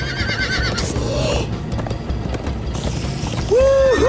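A horse in Minecraft Story Mode whinnies loudly with a rising and falling call, clip-clopping hooves and a busy rumble behind it, and a second neigh near the end.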